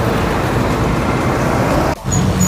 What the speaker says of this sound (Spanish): Hay que esperar que pasen los carros para poder cruzar.